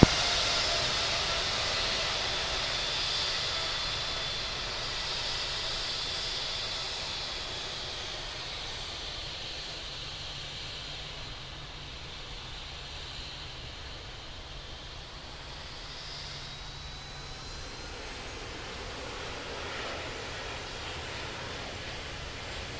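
An airliner taxis to runway 4 left at JFK in the Infinite Flight simulator, a steady broadband engine hiss with a faint high whine, holding nearly constant and alone, easing slightly quieter midway.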